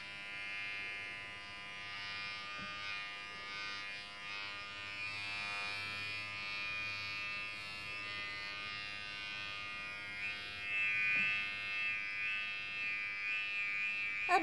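A dad's electric razor runs with a steady high buzzing hum, constant and fairly close, with a faint voice briefly near the end.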